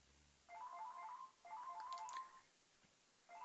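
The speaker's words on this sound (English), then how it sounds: "Another phone call. That's 3 in a row." A phone rings with an incoming call, two long electronic warbling ring bursts separated by a short pause and a third starting at the end, moderately quiet and heard alone.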